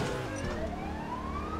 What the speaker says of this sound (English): Where is the police car?